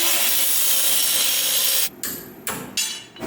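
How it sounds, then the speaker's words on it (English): A hand saw cuts through the metal sway bar mount on a Jeep Cherokee XJ in continuous close rasping strokes, then stops and gives a few separate short strokes with pauses between them. "So we're gonna have to cut the sway bar mount off"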